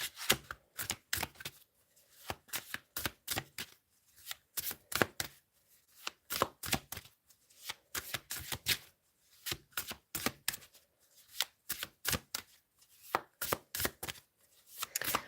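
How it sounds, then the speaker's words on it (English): Tarot cards being shuffled, a rapid series of crisp riffling bursts in regular clusters, close and fairly loud, with brief pauses between handfuls and no speech. "And just as I'm shuffling"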